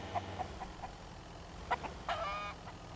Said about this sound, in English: What? A chicken?